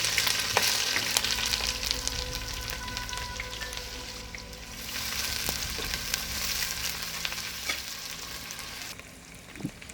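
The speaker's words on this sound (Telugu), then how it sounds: "ఉల్లిగడ్డలు అయితే ఎర్రగా వేయించుకోవాలి" Thinly sliced onions frying in oil with whole spices and a bay leaf, a dense, continuous sizzle with occasional light clicks of stirring, close and steady.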